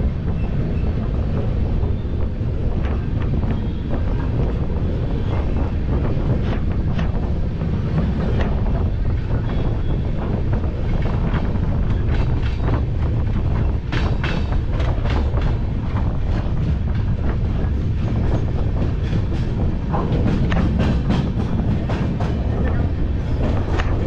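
LTT Mumbai–Dibrugarh Express running nonstop toward Farakka Junction, a steady loud rumble with rushing wind buffeting the microphone and occasional rattles throughout, no talk.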